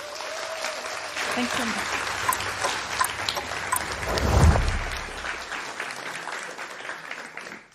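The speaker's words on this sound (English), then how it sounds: "If I can get another big round of applause for all of our teams." Crowd at a food systems event gives a round of applause for the teams, clapping swelling to a peak midway and then tapering off, with a speaker's voice over the start.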